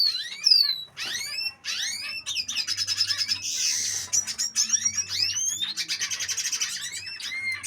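Siskins chirp in quick, bright, overlapping calls, a male courting a female, the twittering running nearly continuously and close by with a faint low hum underneath.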